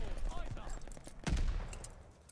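An MG42 machine gun in Call of Duty Vanguard fires a rapid, dense burst amid busy game noise, the rattling volley swelling midway and then tapering off, with a voice faintly present.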